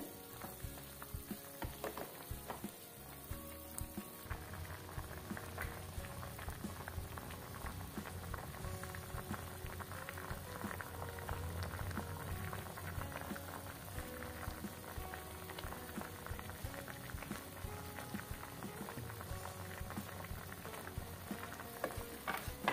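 Water with eri silkworm pupae boils in a pot on a gas stove, giving a steady, quiet bubbling and sizzling that carries on without a break and with no voices over it.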